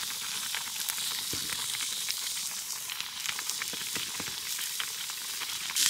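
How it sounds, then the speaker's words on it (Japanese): Hot pot broth simmers in a pot at a snowy winter camp in Shirakawa-go at minus ten degrees, giving a steady close-up bubbling hiss with frequent small pops. "ぐつぐつ早っ。"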